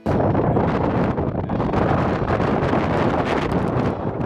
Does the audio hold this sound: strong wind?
yes